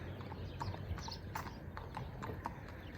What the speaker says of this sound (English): It's a random person riding down the street on a horse,